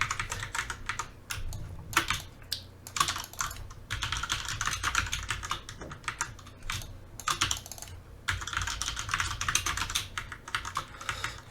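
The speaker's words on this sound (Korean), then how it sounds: "그냥 타이핑을 칠게요." Rapid typing on a computer keyboard during a Photoshop editing session, close and clear, with irregular bursts of key clicks separated by short pauses and no talking.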